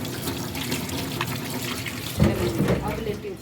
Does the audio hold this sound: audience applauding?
no